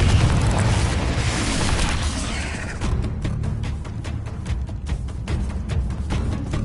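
Confringo explosive spell blast in Hogwarts Legacy, a heavy booming burst that decays into rumbling debris, followed by scattered sharp crackles and impacts.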